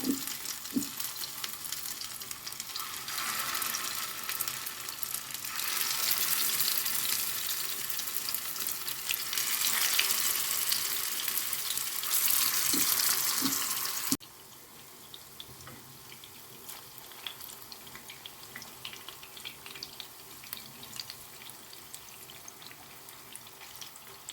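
Fish cutlets sizzle loudly in heated oil in a pan on a gas stove, a steady hiss that swells mid-clip, then drops to a quieter, crackly fry after a lid goes on.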